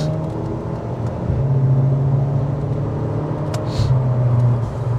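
A modified Stage 1 VW Scirocco, 210 hp, with its engine revving in steady rising surges, a loud close droning rumble held throughout with brief swells in pitch.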